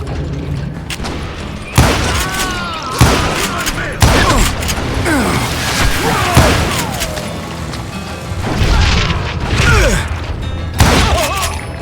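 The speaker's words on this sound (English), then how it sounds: "a fusillade of bullets come raining down from on high" A fusillade of bullets rains down from above in Call of Juarez Gunslinger, with loud, sharp volleys cracking every second or two, ricochet whines and thuds, and a speaking voice under the shooting.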